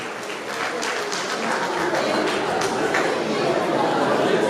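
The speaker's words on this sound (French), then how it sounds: "Donc, bien, applaudissez." Applause and crowd chatter from an audience at an anniversary ceremony, a steady broadband clatter of many hands sustained throughout and fairly close.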